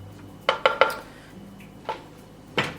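A utensil clinks and scrapes against a dish while ham is mixed into a weight-watchers dinner, a quick trio of sharp knocks followed by scattered, louder taps, close and without speech.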